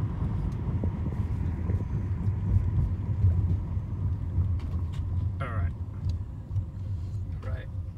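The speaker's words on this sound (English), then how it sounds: "It's full acceleration. Prius power." A Toyota Prius accelerates hard, its low steady drone filling the cabin with road and wind rumble throughout, while people talk over it.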